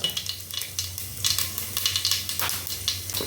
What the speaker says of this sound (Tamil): எண்ணெய் காஞ்சிருச்சு இப்போ கடுகு போட்டுக்கலாம் கடுகு கடலைப்பருப்பு உளுந்து போட்டுக்கலாம்